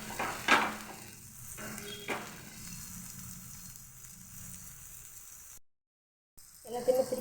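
Masala-coated plantain slices frying in oil, a close crackling sizzle with a few scraping stirs early on. It drops out briefly near the end and then returns.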